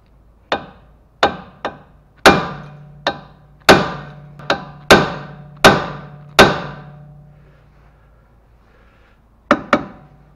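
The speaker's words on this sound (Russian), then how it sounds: "Давайте молотком попробуем." A hammer strikes a front strut mount on a Lada Priora during a suspension repair: about a dozen sharp, ringing metallic blows, loud and close. They come in an uneven rhythm with a long pause near the end and no talk.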